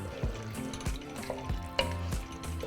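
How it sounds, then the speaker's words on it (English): A spoon stirs beef broth and shell pasta in a pot, producing repeated sloshing, scraping strokes in a quick irregular rhythm, close and moderately quiet with small knocks against the pot. "So just mix everything together"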